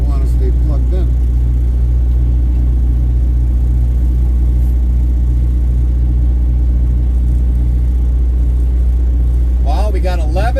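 Semi truck engine rumbling during a delivery run in Michigan, a loud constant low drone heard from inside the cab, with brief talk near the start and again at the end.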